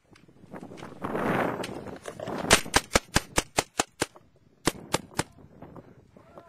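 Gunshots in a hunting scene: about a dozen sharp, close cracks fired in a quick uneven burst, a brief pause, then a few more shots, following a short rush of noise.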